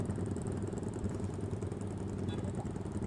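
In a traffic jam, motorcycle engines rumble loudly and continuously with a low throbbing exhaust drone, close by, and no clear break in the noise.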